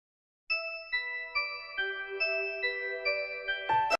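A bright, tinkling channel intro jingle for a Portuguese-language top-ten countdown on natural disasters, with chime-like tones stacking in quick succession and ending in a loud final burst.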